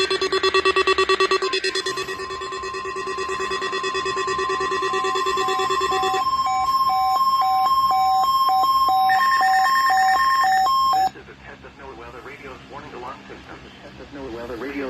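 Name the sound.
EAS attention signal alarm tone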